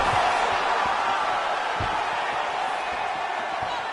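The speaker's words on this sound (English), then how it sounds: "you hear the crowd react every time they come together" A crowd at a fight roars in a continuous, dense wash of voices, with dull thudding impacts scattered underneath and a commentator's voice briefly present.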